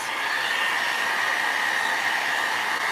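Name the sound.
dryer blowing air to dry Pentart cracking paste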